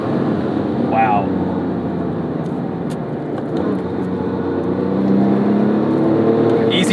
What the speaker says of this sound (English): Easy downshifts, even with the turbo, not too inconsistent with the throttle response.